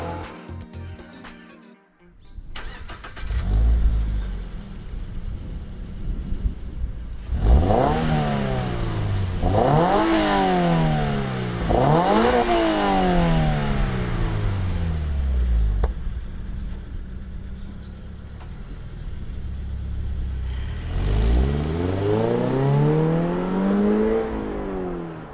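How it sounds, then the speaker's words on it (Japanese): A Subaru BRZ boxer engine breathes through an HKS LEGAMAX Premium exhaust, revving up and dropping back in three quick blips, then pausing before one more rev and a long fall. "パイプ系やシェル内部の構造は細かな調整を重ね、こだわりのボクサーサウンドに仕上げました。"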